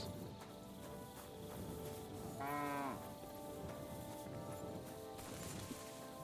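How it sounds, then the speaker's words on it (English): A cow moos once in Kingdom Come: Deliverance 2, a short tonal call rising out of a busy game soundscape with ambient noise and other effects, moderately near. "That is why we hear the cow here."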